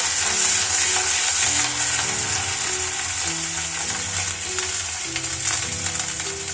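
Ginger paste frying with whole garam masala in hot oil in a wok, a steady dense sizzle running throughout under faint tonal background music.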